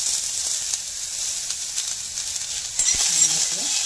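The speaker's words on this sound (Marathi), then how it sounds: "थोडं तेल घालायचं, ते चिपकावं नाही कांदा कढईला" Onion frying in a little oil in a kadhai, a bright continuous sizzle close by with a few faint spoon clinks, no talking.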